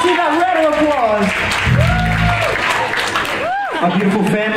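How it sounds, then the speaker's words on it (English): Applause from a crowd for performers at a dance-competition semifinal, heard under continuous loud talk and cheering from a host, with music-like tones mixed in throughout. "Let's give that round of applause"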